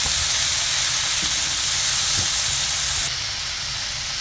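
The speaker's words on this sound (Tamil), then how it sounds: "அதையும் சேர்த்து நல்லா வதக்கணும்" Steady loud sizzling and hissing of food frying in a hot pan, continuous throughout with a slight drop in level near the end.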